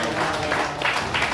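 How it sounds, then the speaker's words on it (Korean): A short burst of group clapping in a Korean seminary classroom, a brisk wash of hands lasting just over a second. "서로에게 축복의 박수 하겠습니다"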